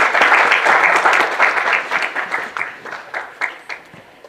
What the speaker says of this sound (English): A round of applause, people, come on.